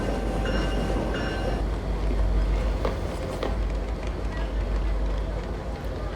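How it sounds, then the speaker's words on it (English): A train heard from a scene of a TV crime drama, a steady low rumble of rolling rail cars running through the whole stretch, with faint clatter above it and people talking over it. "a train. Heist."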